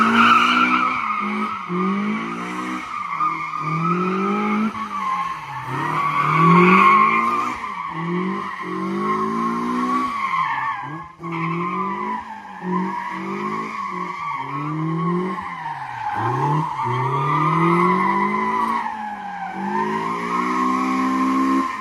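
A Mazda Miata being driven hard, its engine rising and falling through repeated revs while tires squeal and skid in long, loud, continuous bursts.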